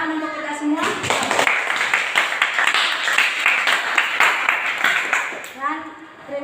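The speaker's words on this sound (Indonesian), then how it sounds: "Tepuk tangan untuk kita semua." Classroom applause after a cooking practice session, a burst of clapping from a group that carries on for several seconds under voices, starting after a short spoken phrase and fading near the end.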